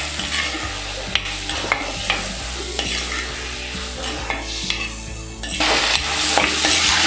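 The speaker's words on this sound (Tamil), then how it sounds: "இதை நல்லா மிக்ஸ் பண்ணி விட்டுக்கலாம் இந்த காய்கறிகள் எல்லாத்தையும்" Vegetables, including eggplant, being stirred in a frying pan for a dry fish curry, with loud, close scraping strokes over a constant sizzle.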